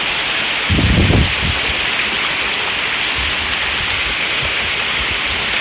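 Heavy rain pours down at a catfish farming pond: a dense, constant hiss of rain hitting water and surfaces, with a brief louder splash or thump near the start and no talking.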